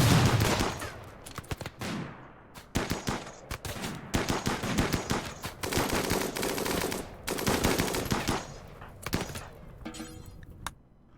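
Rapid bursts of automatic gunfire and single shots from a RimWorld firefight, loud and dense, in repeated volleys that pause briefly and resume across the whole span.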